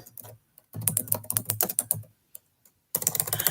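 Rapid clicking of keys on a computer keyboard, in quick bursts with a short pause before a final flurry, close up.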